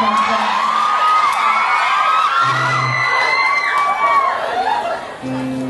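A concert crowd screams and cheers loudly for a Thai singer, high-pitched shrieks and whoops rising over one another, with a voice speaking through the noise.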